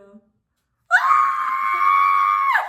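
A person lets out one long, loud, sustained scream that starts abruptly after a brief quiet moment and stays steady for nearly two seconds.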